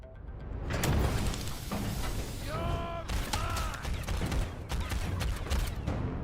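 Sci-fi gunfire from the space game Starfield rings out in sustained bursts of shots and mechanical clatter, with tonal electronic whines mixed in.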